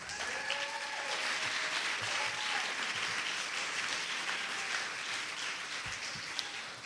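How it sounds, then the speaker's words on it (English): Sustained audience applause at a Tampa Bay Ignite speaker event in 2014, a dense, even wash of many hands clapping that fills the whole stretch without a break, with no talking over it. "Let's give them a round of applause."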